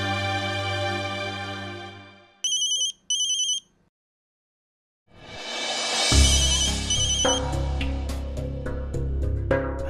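A telephone rings in a Hindi TV drama scene, two short bursts of ringtone after a fading musical tone, followed by a swelling dramatic music sting; no talking.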